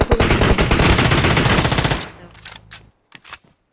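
Rapid automatic M4 rifle fire in the PUBG Mobile video game, a dense loud burst for about two seconds that then breaks into a few scattered, fainter shots.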